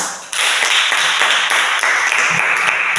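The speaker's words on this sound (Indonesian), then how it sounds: "Tepuk tangan sekali lagi buat kelompok 2." Applause from a classroom group for group 2 after a presentation, a dense run of many hands clapping close by, steady and loud for about three seconds.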